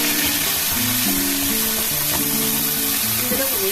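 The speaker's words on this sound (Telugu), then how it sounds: "వేసేసిన తర్వాత ఇది ఎర్రగా వేగాలన్నమాట" Ground onion and chili paste fries in hot tempering oil, a loud continuous sizzle and crackle close by, with faint stirring beneath a low hum.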